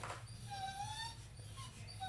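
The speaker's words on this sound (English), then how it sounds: "my dog Princess wants out" A dog whining to be let outside, with thin, drawn-out high whimpers rising and falling over a steady low indoor hum, close by and fairly quiet.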